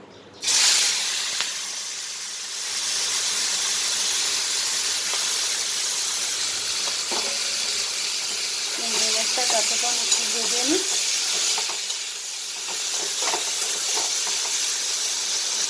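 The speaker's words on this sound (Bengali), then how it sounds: "চিংড়ি মাছটা ভাজার জন্যে তেল গরম হয়ে গেছে" Prawns dropped into hot oil burst into a loud hiss, which settles into a steady close sizzle with a few utensil scrapes and light stirring partway through.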